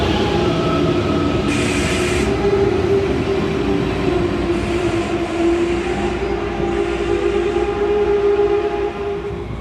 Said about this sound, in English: This is a high-speed intercity train called the ICE